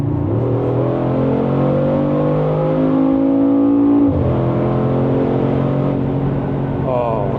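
A 2024 Mercedes-Benz G63 AMG on kickdown, its engine and exhaust surging with a loud, close rising drone that climbs in pitch, drops at a gear change, then climbs again.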